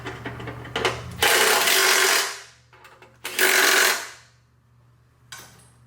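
A power drill drives bolts on the engine trim of a Toyota Camry during a head gasket job, firing in two loud bursts of a second or so each, with short clicks and handling noise between them.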